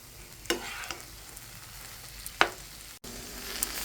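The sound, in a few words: stir-frying ash gourd with lentils and spices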